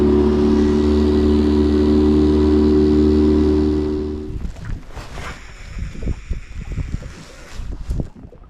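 A Yamaha 8 outboard engine runs loud and steady on a small fishing boat for about four seconds, then cuts out, leaving close splashing, knocking and wind noise.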